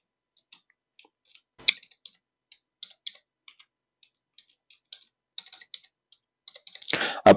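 A computer mouse clicks sparsely and quietly while a user account is set up. Single clicks and a few short clusters fall at irregular intervals, and a louder rustle comes at the end.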